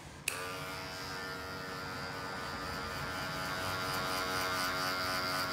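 Andis hair clippers fitted with a 1.5 mm zero guard switch on abruptly and buzz steadily and closely as they cut hair for a short men's fade, a constant electric hum with no talking.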